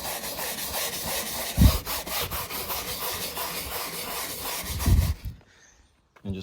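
Steady rhythmic scrubbing by hand against a boat's gelcoat, continuous rasping strokes with two heavier thumps, then it stops briefly before resuming.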